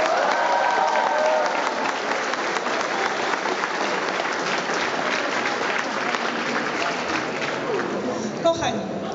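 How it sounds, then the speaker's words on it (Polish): Sustained, loud, even applause from a large audience for the choreographers at a Polish high school studniówka prom, a dense wash of clapping that fades slightly toward the end. "Ogromne brawa dla choreografów"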